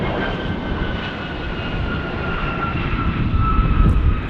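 A heavy jet airliner, a Delta flight arriving from Seoul, roars past at Las Vegas airport, its loud, steady engine rumble swelling slightly toward the end with no voices.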